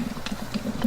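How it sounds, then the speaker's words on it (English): A bubbling mud pot at the Artist's Paint Pots in Yellowstone gives off soft, irregular blurps and pops, a faint close patter of bursting mud bubbles lasting under a second. "The artist's paint pot was a bubbling mud and boiling mud"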